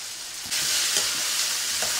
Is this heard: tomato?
yes